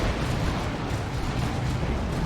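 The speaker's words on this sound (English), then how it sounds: "more explosions going on." Battle explosions in the real-time strategy game Warhammer 40,000: Dawn of War 2, in a Chaos versus Tyranids versus Orks match, form a dense low rumbling barrage of overlapping booms that continues through a brief stretch.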